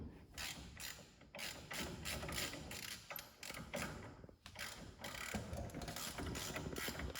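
A ratchet works loose the bolts on a Toyota Supra's brakes, its quick clicking pawl coming in repeated bursts with metallic creaks, close and fairly quiet.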